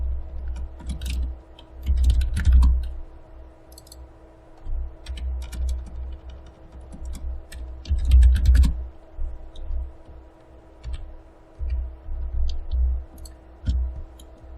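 A computer keyboard and mouse click and clatter in irregular bursts of typing and key taps, close and fairly loud, while someone edits textures on a computer.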